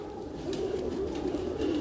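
Heera Laal breed pigeons coo in a low, throaty, continuous warble, close and steady, with no voices.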